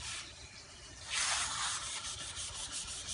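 Cloth wiping stainless steel appliance surface with methyl ethyl ketone to dissolve wax, a steady soft rubbing hiss that swells louder midway and continues in close, even strokes.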